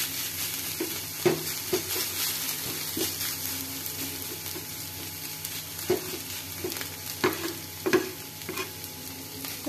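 Sunsuniya greens stir-fried in a pan, a continuous close sizzle broken by a handful of sharp spatula scrapes and taps, with no talking.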